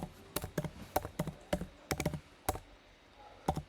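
Rapid bursts of keystrokes on a computer keyboard while a Python multi-line comment is typed, crisp close clicks in irregular clusters with short pauses between them.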